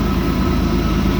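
A CSX GEVO diesel locomotive digs in hauling a heavy coal train along the old B&O mainline in a snowstorm, giving a loud, steady low engine rumble that holds without a break.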